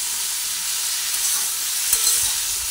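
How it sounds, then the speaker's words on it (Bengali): Cucumber and other vegetables sizzle steadily in a hot pan, a close, dense frying hiss with soft scrapes of stirring, for a vegetarian cucumber, sesame and poppy seed dish, with no talk. "আবার ভালোভাবে একটু নাড়াচাড়া করে ভেজে নিই"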